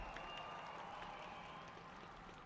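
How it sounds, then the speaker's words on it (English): A home crowd applauds at a speed skating World Cup session in Beijing, a steady, even wash of clapping held at a distance for a couple of seconds with no talk over it. "Nice applause from the home crowd."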